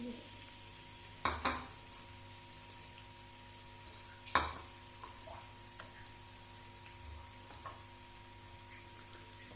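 Sliced onions hit hot oil in a pan and give a faint, steady sizzle, broken by a few sharp clinks and scrapes of a utensil against the cookware.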